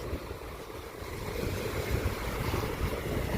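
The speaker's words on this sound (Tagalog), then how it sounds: "Ito yung dagat na." Sea waves roll onto a beach lot at Aringay, La Union, a continuous low wash of surf with wind rumbling against the microphone, steady and without speech.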